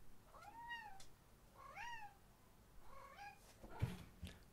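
A cat meows three times in drawn-out, rising-and-falling cries, close and moderately loud, followed by a couple of faint knocks.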